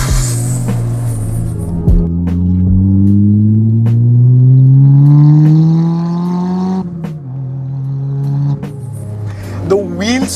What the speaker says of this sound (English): driving the Turbo Corolla on the road, let's just do a quick little